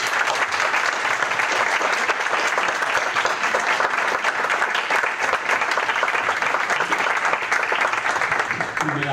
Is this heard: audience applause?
yes